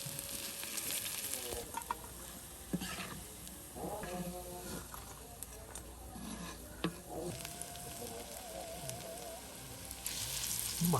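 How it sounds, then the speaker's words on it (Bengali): Lentil and onion fritters (piyaju) fry in hot oil for village-style iftar, giving a steady sizzle and crackle with occasional stirring clinks and faint background sounds. "অল্প সময়ের মধ্যে ভাজা ভাজা হয়ে গেল মজাদার মসুর ডালের পেঁয়াজি"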